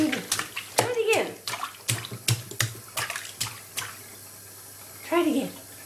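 Water splashing in a bathtub in a household bathroom, heard as a string of sharp splashes and slaps while a child plays with it, with a voice calling out in between.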